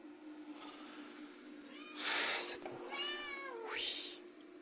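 A cat meows several times indoors, drawn-out rising and falling cries at moderate distance over a steady low hum, with a faint voice in the background.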